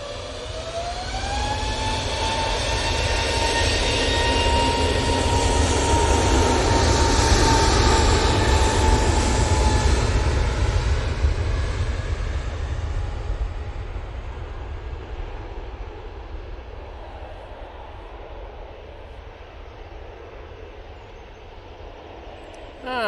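An easyJet Airbus A320neo takes off at Manchester Airport, its engine roar swelling with a rising whine, holding loud and steady for several seconds, then slowly fading into the distance as it climbs away.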